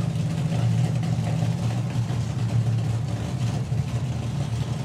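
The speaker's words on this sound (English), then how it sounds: "You'll hear the note of the engine change." Steady, loud low engine drone from drag racing cars idling in the staging lanes as fuel pumps are turned up, holding a sustained rumble with little variation.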